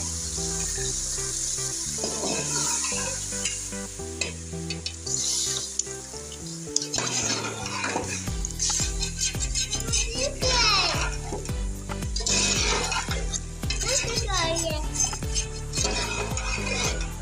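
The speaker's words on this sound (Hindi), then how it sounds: "थोड़ा सा पानी डाल दिया, इसके 2-3 उबाल आने सालन तैयार।" Beef karahi sizzles and bubbles in a pan as water is added, with clinks of a stirring spoon and a bright hiss of frying under background music and occasional voices.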